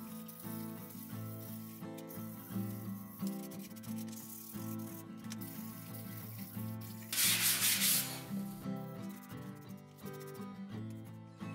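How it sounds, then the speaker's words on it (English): Rhythmic rubbing strokes of sanding on wood repeat steadily, with a brief louder, hissing burst partway through; no talking. "So now I will begin sanding."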